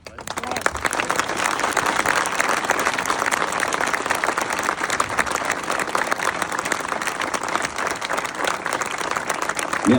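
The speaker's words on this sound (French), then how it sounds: "qu'on réserve une salle d'applaudissements à nos deux immenses maires" An audience applauds at a building inauguration speech, a loud, steady wash of dense clapping that runs unbroken for the full stretch, with a few voices mixed into the crowd.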